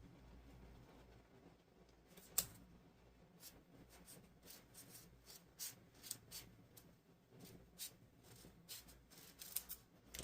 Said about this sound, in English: we're going to cut straight down that center line